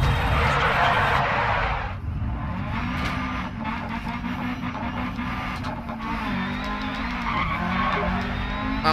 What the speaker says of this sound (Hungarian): Nem fog a fék rendesen már, mert így lehet hallani, hogy karistolódik. Elkoptak a fék pofák.